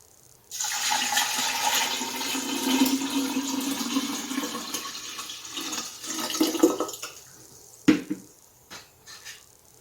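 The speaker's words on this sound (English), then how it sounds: "So I'll go ahead and pour it in this jar with the kefir grains." Water kefir mixture poured into a jar holding kefir grains, a steady close liquid gush and splash lasting several seconds before tapering into a few drips and clinks.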